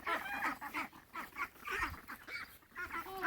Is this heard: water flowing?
no